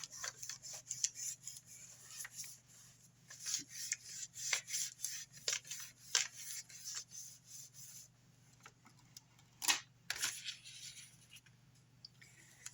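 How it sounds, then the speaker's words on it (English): Polymer clay cane veneer being burnished flat, with soft repeated rubbing and scraping strokes in an irregular rhythm, close but quiet, plus a few sharper taps over a faint steady hum. "now we're going to burnish this. Get it as flat as we can."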